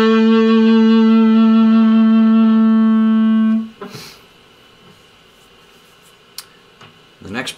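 Distorted electric guitar plays a passage from a solo: one loud, sustained note rings for about four seconds with slight wavering, then cuts off, leaving quiet room noise with a few soft clicks.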